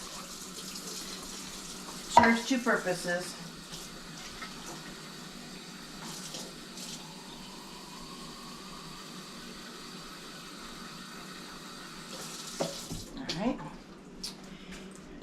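Running tap water splashes steadily into an emptied food can, with someone talking briefly before and after, and a clatter of handling near the start.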